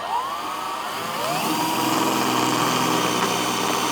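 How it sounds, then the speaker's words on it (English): A power drill whines and rises in pitch as it bites into the metal roof of a DeLorean car, loud and steady at close range. "let's drill into the roof of the car."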